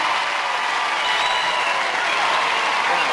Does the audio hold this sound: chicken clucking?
no